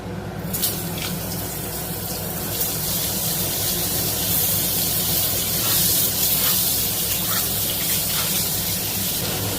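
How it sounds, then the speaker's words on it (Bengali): Pointed gourd (potol) frying in the same oil just used for potatoes gives a loud, constant, spray-like hiss that swells slightly midway and carries on without any voices. "ওই তেলের মধ্যেই পটলগুলো ভেজে নেব।"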